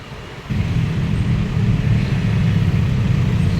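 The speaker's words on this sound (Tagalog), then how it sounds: "dito madalas ang traffic" Steady road traffic rumbles at a San Mateo–Batasan Road intersection, a continuous low drone of passing cars and engines that swells after a brief quieter start and holds near and loud.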